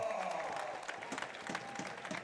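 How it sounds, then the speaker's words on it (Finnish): Faint applause from a distant crowd at a Finnish Cup match, a soft patter of clapping spread over the background. "Saa kyllä ansaitsemat aplodit siitä."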